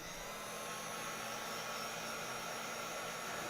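A heat tool blows hot air to dry pigment ink before gold embossing powder is added, a steady, loud, close whirring blast of air that holds an unchanging level throughout.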